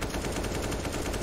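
Rapid automatic gunfire from a Counter-Strike: Global Offensive match in an ESL Pro League game, a dense, loud continuous burst of shots with no talk.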